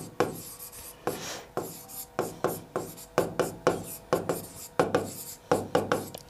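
A pen scratches across paper in a steady run of short strokes while someone writes out a quadratic equation during a Class 10 maths lesson, close and fairly loud with no talk.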